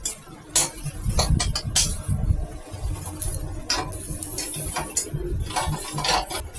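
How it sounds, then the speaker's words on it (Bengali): Spices sizzle gently in a pan while a spoon scrapes and clinks against the metal in irregular strokes, close and fairly quiet. "এবার আমরা মশলাগুলো ভালো করে কষিয়ে নেব 2-3 মিনিট"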